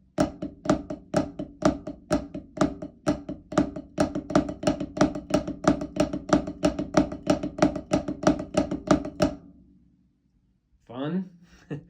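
Flam taps are played on a drum as a steady run of about two dozen crisp, evenly spaced strokes with grace notes. A brief voice follows after the drumming stops.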